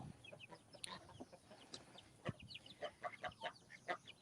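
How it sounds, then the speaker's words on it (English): Young baby chickens cluck and chirp faintly in a muddy garden run, a busy scatter of short peeps and soft clucks over steady outdoor background noise. "Those are our youngest little baby chickens."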